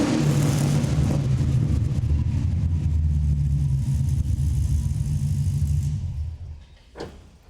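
A 1969 Dodge Charger fitted with a Hellcat engine idles with a deep, steady rumble through a louder exhaust. The loud, close drone holds unbroken for several seconds, then cuts off abruptly, followed by a brief knock.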